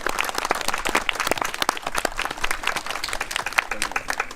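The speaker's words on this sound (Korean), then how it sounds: "큰 박수 좀 부탁드리겠습니다." Outdoor applause at a memorial ceremony at a cemetery, a modest crowd clapping with distinct, uneven claps close by, lively and continuous for several seconds.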